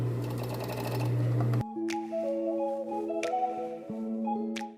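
A sewing machine stitches elastic onto a bikini top in a dense, rapid mechanical whir for about a second and a half, then stops. A quieter tonal hum with a few sharp clicks follows.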